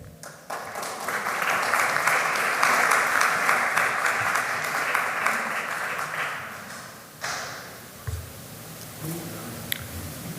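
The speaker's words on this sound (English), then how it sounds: "Don't clap, I haven't done anything." Audience applause at an opening ceremony in Manchester: dense, steady clapping from a sizable crowd for about seven seconds, then fading into scattered claps and room noise.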